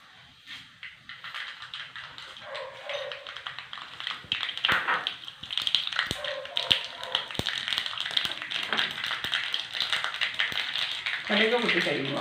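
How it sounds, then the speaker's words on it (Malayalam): Mustard seeds crackle and pop in hot oil as a tempering for curd rice, sharp irregular pops building over steady sizzling, with a voice talking over them. "കടുക് പൊട്ടിക്കഴിയുമ്പോൾ"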